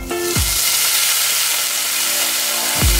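Chopped bacon pieces frying in a pan over medium-high heat, a steady close sizzle with no talk, and two brief low thumps or clatters near the start and end.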